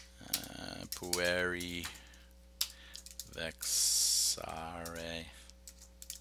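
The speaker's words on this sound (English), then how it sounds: "you can fast forward 10 seconds while I type this out" Keys clatter on a computer keyboard in quick bursts, close and crisp, while a voice speaks a few words in between.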